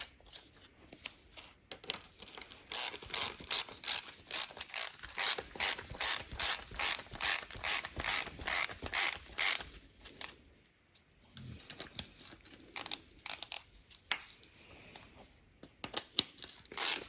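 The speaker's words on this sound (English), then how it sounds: "Tighten all the torque screws up." A ratchet wrench clicks steadily in long rhythmic runs while tightening the screws on a Nissan NV200 1.5 dCi filter housing, close and clear, with short pauses and a few scattered metallic taps between bursts.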